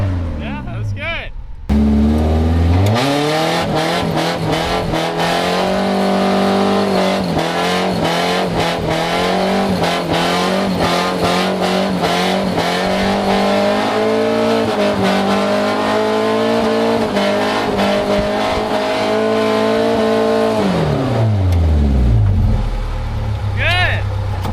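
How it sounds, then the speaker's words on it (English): A car drifting and doing donuts: the engine revs hard and holds a sustained high drone for about twenty seconds with squealing tires, then winds down near the end, loud and close. "You're actually drifting and not just understeering."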